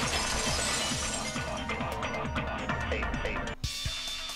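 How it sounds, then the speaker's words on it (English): Glass shatters in the video game Danganronpa Goodbye Despair, a loud crash followed by a dense spray of tinkling fragments that cuts off abruptly near the end. "the girls heard the sound of the window shattering"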